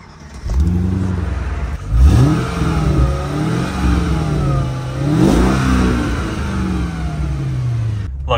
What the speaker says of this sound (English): The best part about this car is the exhaust.